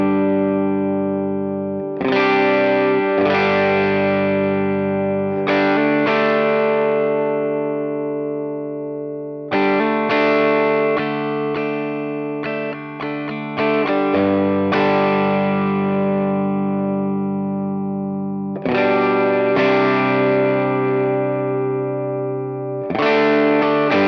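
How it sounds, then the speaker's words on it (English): A Duesenberg electric guitar plays sustained chords through a Matchless amp into an Ox Box cab, loud and rich with a few pauses between strummed phrases, no talking. "This is just the amp. Duesenberg into my matchless and into this cab."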